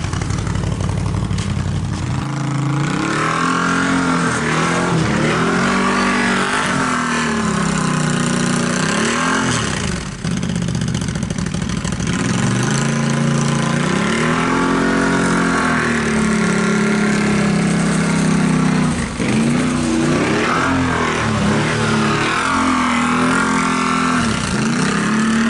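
A four-wheeler ATV engine revs loudly and continuously while doing donuts in snow, its pitch rising and falling in repeated sweeping cycles as the throttle is worked, close by and with no speech.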